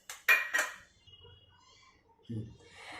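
Sprouts salad tossed with fresh coriander leaves in a bowl: a few quick, bright clinks of a spoon against the dish at the start, then quieter rustling, with a brief voice near the end.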